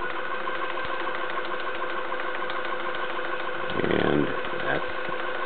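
A Watson Marlow 323Dz peristaltic filling pump runs to prime its tubing, giving a steady mechanical whir with a rhythmic pulsing hum, while someone speaks briefly over it.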